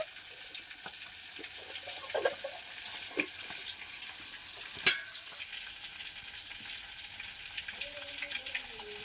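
Pieces of marinated fish frying in a pan, a quiet continuous sizzle with a few scattered clinks and one sharp tap of a utensil midway, heard alone with no talking.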